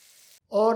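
A salted mixture for a vegetarian winter breakfast simmers and is stirred in a pan over low heat, giving a soft, steady sizzling hiss that stops briefly before a voice begins speaking.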